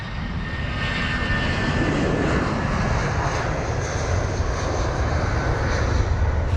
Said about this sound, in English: because we had the A320 and also the 787 pass us both at the same time